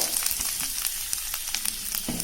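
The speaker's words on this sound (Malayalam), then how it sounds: "ഇത് നന്നായി വറുത്തെടുക്കും. നല്ല ബ്രൗൺ കളറാവുന്ന വരെ വറുത്തെടുക്കും." Grated coconut frying in a pan with mustard seeds gives a constant close sizzle, broken by faint scraping and light ticking as it is stirred.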